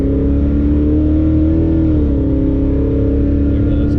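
A Pontiac G8 running E85 is held at full throttle, its engine a loud, steady, close-up roar whose pitch climbs slightly, then eases and settles at a sustained drone.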